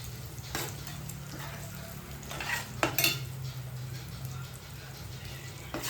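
Ground fenugreek and mustard being stirred into fish pickle frying in a pan, a steady low sizzle with soft spoon scrapes and a few brief clinks, fairly quiet and close.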